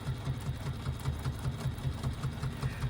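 A sewing machine runs steadily, stitching a faux leather strap in a fast, even rhythm of repeated needle strokes with a constant mechanical hum, close and clear with no voices.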